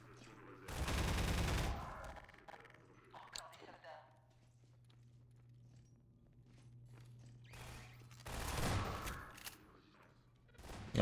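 Automated turret gunfire in Half-Life 2 comes in two rapid sustained bursts several seconds apart, over a low steady hum, with someone speaking French in between.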